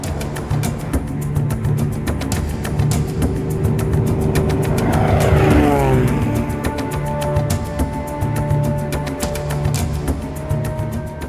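A light aircraft carrying a passenger over farmland near the Limpopo River, its engine drone steady and loud throughout, with a brief rising whoosh of passing noise partway through.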